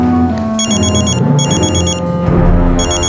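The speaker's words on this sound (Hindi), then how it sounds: "हॉस्पिटल से फोन आया था, वीर को होश आ गया है।" A telephone rings for an incoming call from a hospital, repeated bursts of electronic bell tone in a regular pattern, loud and close with no talk over it.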